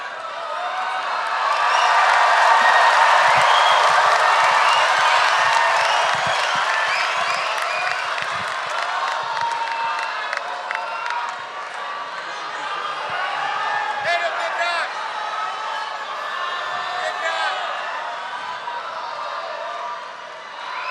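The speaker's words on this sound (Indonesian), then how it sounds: "tepuk tangannya lebih meriah lagi." Large crowd at an Indonesian national campaign rally for Prabowo and Gibran claps and cheers loudly and continuously, a dense wash of applause swelling early and holding steady throughout.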